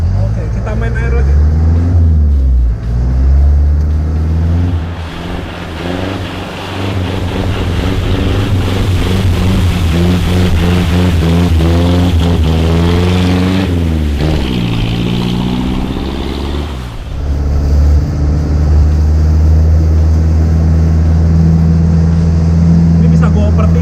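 A Daihatsu Taft diesel off-road vehicle drives through water, its engine loud and close. Revs rise and fall steadily, with wind buffeting the microphone and a voice speaking at times.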